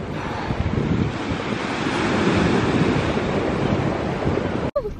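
Sea waves at Weston-super-Mare wash in as a continuous roaring surf, mixed with heavy wind buffeting the microphone, before a brief knock near the end.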